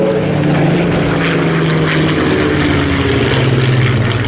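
A WWII propeller warplane roars past in a D-Day 80th anniversary display formation at Eastbourne Airshow, a loud, steady droning engine with a slowly shifting pitch as it passes, no voices.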